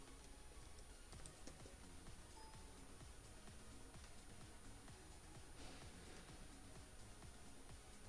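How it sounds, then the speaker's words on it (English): Someone types on a computer keyboard, a faint, continuous patter of key clicks under steady background hiss, with no talking. "We'll just type it in here."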